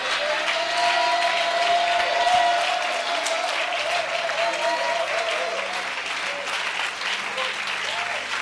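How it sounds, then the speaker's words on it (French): A church congregation applauds loudly and continuously, a dense, even clatter of many hands that holds steady throughout, with faint voices cheering within it. "donne-moi une bonne offrande d'acclamation"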